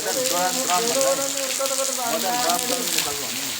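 Water pours from a natural spring over a small waterfall in a steady, close splashing rush, with voices murmuring underneath.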